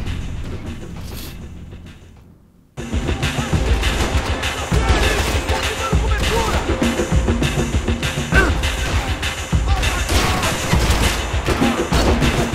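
Max Payne 3 gunfire on hard difficulty breaks out after a short quiet lull, then continues as rapid, loud volleys of shots with impacts and crashes filling the rest of the stretch.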